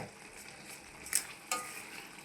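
Salt fish curry with masala simmers and sizzles in a pan, a soft steady bubbling hiss with a couple of brief clinks of stirring, close and alone.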